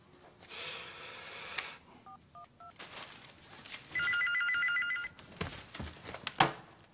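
A telephone in a Korean TV drama rings with a bright electronic trill, then shorter beeps and tones follow, with a few handling clicks and breaths between them and no speech.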